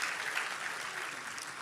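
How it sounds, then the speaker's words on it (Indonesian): A church congregation claps together, a brief, moderately loud, even patter of many hands filling the hall. "Tepuk tangan bagi jemaat yang dewasa"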